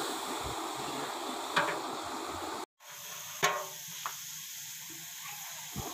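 Broiler chicken pieces fry in a pan for a biryani, giving a soft continuous hiss with a few brief clinks and knocks and a momentary dropout partway through.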